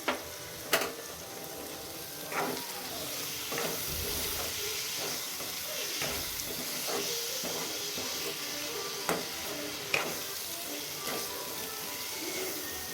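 Tomatoes and salt are stirred in a hot pan, giving a steady close sizzle and hiss broken by occasional spoon scrapes and taps against the pan.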